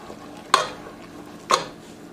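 A spoon works a chocolate mixture in a pot on the stove, with two distinct scraping strokes about a second apart over a low steady hiss of heat.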